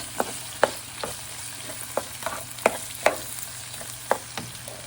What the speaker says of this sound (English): I'm going to add the tomatoes. Perfect. And mix this up really well.